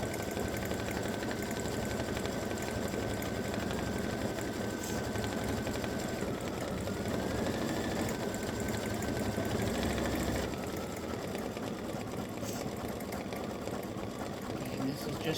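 An embroidery machine stitches a cowboy hat patch for a Halloween cowboy ghost design, a steady close hum with rapid needle chatter running throughout, while a voice speaks over it at times.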